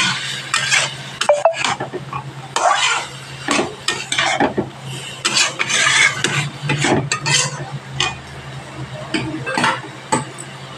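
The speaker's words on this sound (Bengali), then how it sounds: "দিয়ে আরও 1 মিনিট মতো ভালোভাবে কষিয়ে নিয়ে" Shrimp and lentil bori sautéed in a pan, loud continuous scraping and rasping stirring strokes with metal clatter over a low sizzle, close up and busy throughout.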